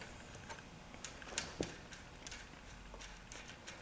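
A wrench works the bolt on a zipper wand wheel with sparse, quiet metallic ticks and clicks. Several small taps and one sharper click stand out against a faint background.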